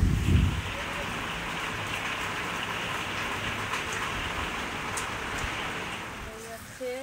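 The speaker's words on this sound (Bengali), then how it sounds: "আর বাইরে তো ওই দেখো বৃষ্টি পড়তেছে।" Rain falls steadily outside during home cooking, a constant even wash of drops on surfaces from start to finish, with a soft low thud at the start and no talk over it.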